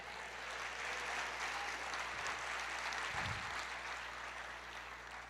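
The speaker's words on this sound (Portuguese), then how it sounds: "E aplauda o Senhor." Church congregation applauding during a Portuguese-language sermon, an even, fairly quiet wash of clapping sustained for several seconds with a faint low hum beneath.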